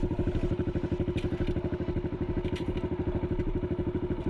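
Dirt bike engine idling steadily on a trail, a close, loud, rapid thumping single-cylinder pulse running throughout with a faint clack as it drops into first gear.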